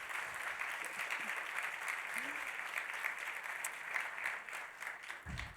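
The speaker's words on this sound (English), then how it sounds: "Let's give her a round of applause" Audience applause at a women's leadership gathering, steady and dense clapping from a large crowd filling the room throughout, holding level before easing slightly toward the end.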